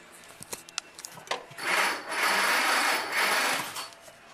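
A 1943 Jeep GPW engine cranking over with its plugs out for a compression test, a few clicks, then a rhythmic whirring crank lasting about two seconds in pulsing waves.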